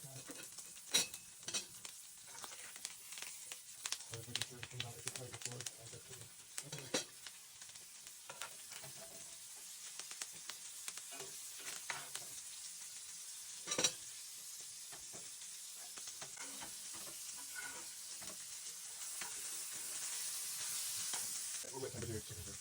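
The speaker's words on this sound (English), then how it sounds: "let it get a nice sear with some oil or some butter" Steak sizzling steadily in a hot pan with oil or butter and herbs and garlic on top, frying crackle continuous throughout with occasional clinks of a spoon against the pan.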